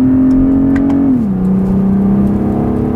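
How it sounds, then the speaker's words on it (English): A BMW 840i Gran Coupé's inline six-cylinder engine holds a loud, steady high-RPM drone, then its pitch drops briefly at a shift before settling into a sustained rev, heard alone up close. "this inline 6-cylinder sound, especially when we're now in the higher RPM regions, is also definitely enough for me"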